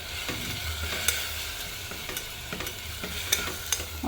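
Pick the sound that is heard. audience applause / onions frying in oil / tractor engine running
onions frying in oil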